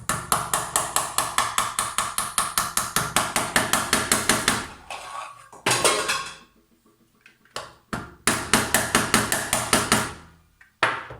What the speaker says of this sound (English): I'm gonna hammer it in.